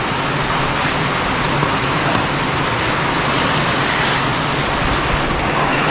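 Heavy monsoon rain pours down in a sudden downpour, a loud, dense and unbroken roar of water striking surfaces from start to finish, with no voices.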